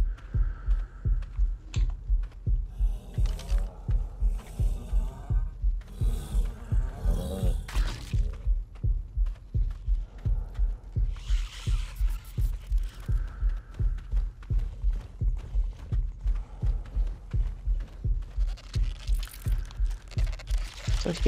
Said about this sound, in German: mein Herzschlag wird immer lauter